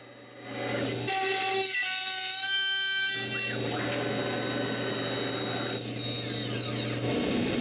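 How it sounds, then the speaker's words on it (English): A power tool cuts grooves into a wooden plaque with a loud, steady whine and a changing pitch as it bites. It runs continuously after a brief start-up. "it's time to cut the grooves"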